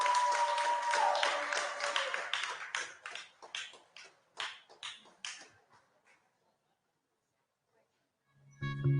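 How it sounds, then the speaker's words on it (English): Audience applause welcoming YouTuber Mark Angel on stage at a live creators festival in Accra, dense at first and thinning into scattered claps before dying out, with a brief burst of other noise at the end. "Mark Angel, round of applause. Big round of applause."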